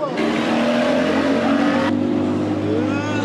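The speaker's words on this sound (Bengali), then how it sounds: "দর্শক, আমরা ড্রিম হলিডে পার্কে এখন হচ্ছে স্পিড বোটে ঘুরতেছি।" Speed boat engine on a pleasure ride at Dream Holiday Park, a loud steady droning roar with rushing water and wind noise, heard close and continuous.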